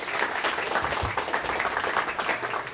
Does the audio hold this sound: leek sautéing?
no